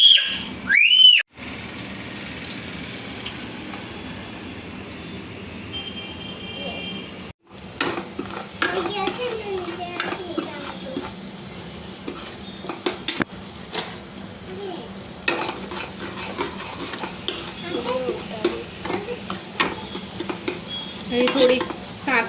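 Chopped onion and tomato sizzle in hot oil in a pan while a spoon stirs and scrapes steadily, close and fairly loud, with a brief whistle-like tone at the start.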